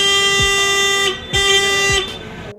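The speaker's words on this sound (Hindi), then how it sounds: "बस वाले भाई साहब बार बार हॉर्न बजा रहे थे" A bus horn on a road blares loudly in long sustained blasts, sounding three times in quick succession with brief gaps, close and dominant over faint traffic rumble.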